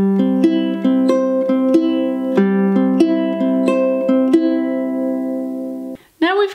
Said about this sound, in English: As we bring this pattern up to the tempo of this song, it will sound like this.